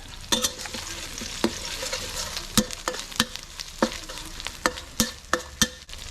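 Shrimp fat is stir-fried in a pan with chili and garlic, giving a continuous sizzle. Sharp, irregular spatula scrapes and taps rise above it at close range.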